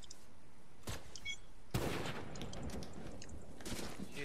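Sniper rifle gunfire in the Fortnite video game: one sharp loud report, with a fainter crack shortly before it and softer game noises trailing after.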